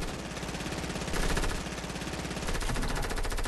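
Rapid automatic gunfire from a Fortnite match rattles in a steady, dense stream of shots, loud and continuous throughout.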